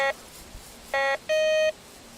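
A Nalanda 18 kHz metal detector signals a coin with electronic beeps: two short tones followed by a longer, steadier one, clear and close against a quiet background.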